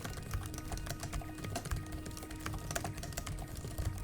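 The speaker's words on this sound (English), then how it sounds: "the way that a keyboard feels and sounds when I type" Typing on the keyboard of an ASUS ZenBook Pro Duo 15 OLED laptop: a quiet, rapid patter of soft key clicks, steady and close, with no talk.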